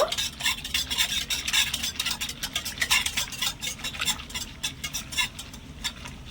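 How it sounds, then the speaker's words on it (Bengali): Ripe mango paste being mixed in a pan over very low heat, with quick rhythmic spatula scrapes and taps against the metal and only a faint sizzle underneath. "এবারে মিক্সির মধ্যে করে রাখা আমের পেস্টটা দিয়ে দিচ্ছি ভালো করে একটু মিশিয়ে নেব"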